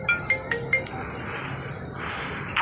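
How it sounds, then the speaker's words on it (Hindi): A mobile phone rings with short repeated electronic tones in a quick pattern, fairly close, over a low steady background hum. "इतने में बब्बू का फोन आ गया।"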